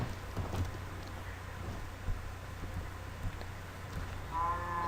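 Cows in the video game Minecraft moo in low drawn-out calls, a few scattered across the stretch, with one clearer moo near the end over a steady low background hum.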